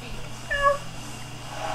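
Cat meow from Dynasty Warriors 6 Empires, a short rising cry near the middle over steady game music and background hum.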